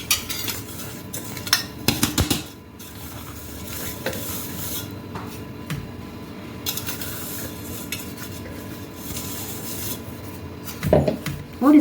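A spoon works coarsely ground cashews, almonds and edible gum into flaxseed powder in a bowl, making repeated rough scraping and rubbing sounds with sharper clinks against the bowl near the start and end; no one talks.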